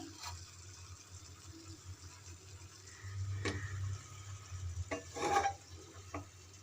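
A spoon stirs Bengali shrimp chorchori curry in a pan, with occasional scrapes and clinks against the metal over a low, steady sizzle.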